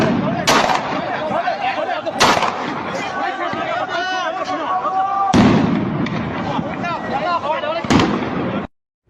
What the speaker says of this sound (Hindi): दोनों तरफ से गोलीबारी शुरू हो गई